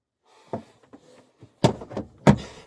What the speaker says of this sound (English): Stop kicking the door.